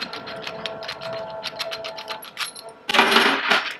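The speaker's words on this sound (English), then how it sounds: "remove the bolts and the bottom part of the clamps" Small metal clicks and rattles from bolts and clamps being removed from a go-kart with a Rotax Max 125 engine, a quick run of light ticks followed by a brief louder clatter, close by.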